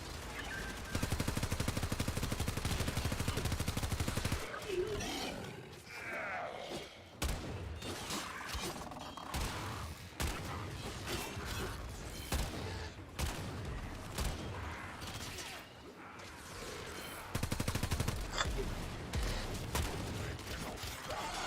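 Enemy gunfire rattles through a video game battle, loud sustained automatic bursts that stop and start again amid other explosive and clattering game sounds, with no talking.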